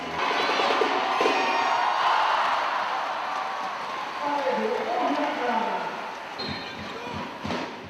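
A large arena crowd cheers and roars continuously at an Olympic women's handball match in Athens, a loud sustained wall of shouting and whooping with a few sharp claps near the end.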